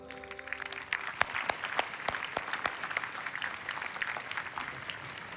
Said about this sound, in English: Let's have another round of applause for Nahdlatul Ulama and Muhammadiyah.